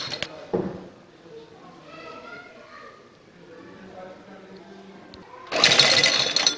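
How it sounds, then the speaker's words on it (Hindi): A domestic sewing machine stitches decorative zigzag cord onto a trouser hem, a loud close burst of rapid mechanical whirring near the end, after a stretch of speech and a brief tap at the start. "जब हमने सिलाई करना है तो ये जो नोक है थोड़ी सी इसको पीछे रखें"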